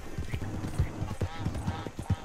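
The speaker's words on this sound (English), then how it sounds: "Just press up to get your horse." Horse hooves clip-clop in steady rhythm in the Red Dead Redemption 2 Online game, close and fairly loud, with voices talking over the footfalls.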